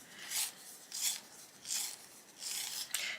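A Cobalt Blue Deep colored pencil is turned in a small sharpener: four or five short, close raspy scrapes of blade shaving wood and pigment, spaced unevenly with quiet gaps between, faint overall and without any talking.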